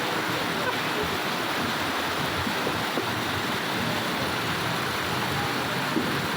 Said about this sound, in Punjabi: ਭਾਰੀ ਮੀਂਹ ਕਾਰਨ ਰੁੜੇ ਜਾ ਰਹੇ ਵਾਹਨਾਂ ਦੇ ਇਹ ਦ੍ਰਿਸ਼ ਗੁਜਰਾਤ ਦੇ ਭਾਵਨਗਰ ਜ਼ਿਲ੍ਹੇ ਵਿੱਚ ਪੈਂਦੇ ਸਿਹੋਰ ਦੇ ਹਨ।